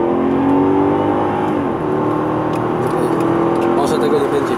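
A 2012 Mercedes R500 with a 5.5 V8 running on LPG, accelerating as a steady, loud engine drone with rising whine and cabin road noise, heard from inside while someone talks over it.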